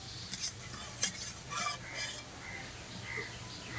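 A potato and egg mixture fries in a pan until browned, giving a faint, soft sizzle broken by a few light scraping and stirring clicks, quiet and close with no talking.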